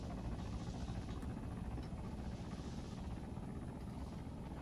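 A Blackfish aircraft in Arma 3 King of the Hill, its engines a constant low rumbling drone with a rotor-like throb, fairly faint and steady throughout without speech.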